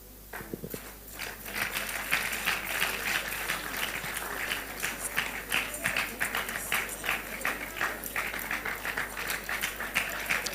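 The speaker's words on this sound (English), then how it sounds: "Let's keep clapping." A large evening political rally crowd applauds a welcomed speaker, producing dense sustained clapping that swells after a brief quieter start and continues steadily at a loud level.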